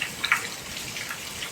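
Rainwater drips and patters in soft scattered drops, a few brighter plinks standing out early over a quiet background, faint and close.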